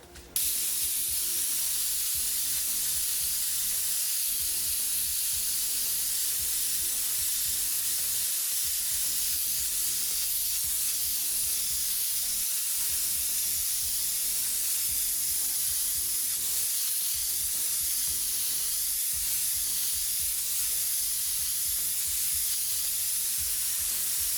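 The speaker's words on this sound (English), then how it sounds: "we're going to take now and lay a nice spray of red right through that whole general area" An airbrush lays down red paint in a constant bright hiss that runs unbroken for a long stretch, with a faint rhythmic pulsing underneath, and no voices speak over it.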